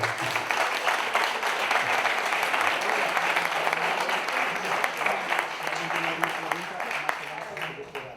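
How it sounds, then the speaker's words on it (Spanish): An audience at a talk breaks into lively, continuous applause lasting several seconds, with scattered voices mixed into the clapping as it gradually thins out. "Un aplauso para mí."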